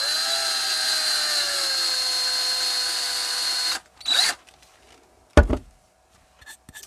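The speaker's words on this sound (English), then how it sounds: "Again, this is a 1/4 inch drill bit." A power drill with a 1/4 inch bit bores a hole, whining steadily and loud for several seconds, then stops, followed by a short second burst and a sharp knock amid quiet.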